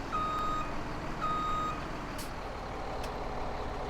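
A long truck in Farming Simulator 17 reverses with a steady series of evenly spaced high beeps over a low, continuous engine rumble, close and fairly loud throughout.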